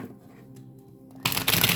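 Tarot cards being shuffled, a quiet rustle at first, then a loud, dense riffling burst of cards through the second half, with no talking.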